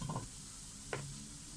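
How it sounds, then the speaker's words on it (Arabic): Sesame seeds bubbling and frying in a pot of hot ghee, a steady low sizzle with a couple of brief scraping stirs from a spoon, close and fairly quiet, with no voices. "السمسم رح يغلي شوي بقلب السمنات"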